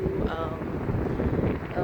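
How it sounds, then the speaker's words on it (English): Strong wind buffets the microphone outdoors on a cold day near a BMW engine and car plant, a constant low rumble with faint voices under it. "it's really cold and really windy"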